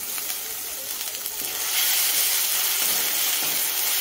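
Ginger-garlic paste sizzles steadily in hot oil in a pan while cooking for an egg curry, a continuous close frying hiss that grows slightly louder partway through, with no talking.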